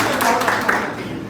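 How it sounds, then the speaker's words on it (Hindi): Brief applause from an audience at a soybean farming training session, a dense patter of many hands mixed with a voice over it. "एक बार ताली बजाइए"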